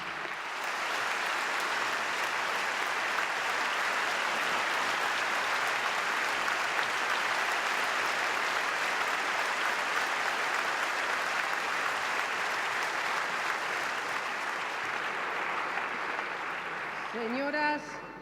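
Sustained audience applause at an awards gala, a dense steady wash of clapping from a large crowd that runs for about seventeen seconds before tapering off at the end.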